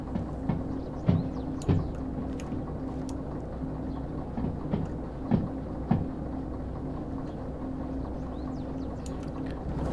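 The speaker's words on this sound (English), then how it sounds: "Great to see this train just feed round." A train rolls along the rails in the video game Derail Valley, a steady low rumbling drone punctuated by irregular clicks and clacks from the wheels, with no talking.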